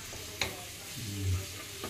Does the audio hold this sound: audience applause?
no